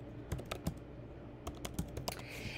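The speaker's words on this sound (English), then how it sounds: "I can type in or copy and paste another website" Keys clack on a computer keyboard, quiet and near, in two short bursts of quick taps separated by a brief pause, with no voices.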